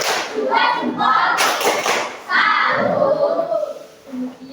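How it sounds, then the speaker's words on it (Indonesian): Small group performing a rhythmic tepuk salut clap routine after a class group discussion, loud close claps and thumps in bursts, mixed with voices chanting along. "Oke, tepuk salut."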